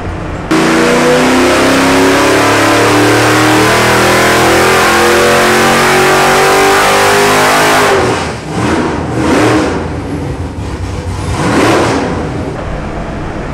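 A naturally aspirated 690 hp small-footprint LS V8 with an X-Ram intake manifold, on a dyno pull, a very loud close engine note that climbs steadily in pitch, then drops off into rough idling revs and blips.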